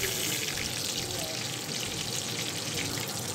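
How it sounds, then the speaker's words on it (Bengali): Steady, dense sizzle of paneer pieces frying in hot oil, a continuous crackling hiss with no pauses and no voices. "এইবার টুকরো টুকরো করে কাটা পনিরগুলো আমি ভেজে নেব"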